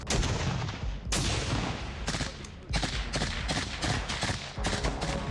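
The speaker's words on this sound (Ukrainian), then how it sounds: "Intense small arms combat follows." Intense small arms gunfire in combat during an infantry battle at Avdiivka, with dense overlapping bursts and single shots cracking continuously, close and loud.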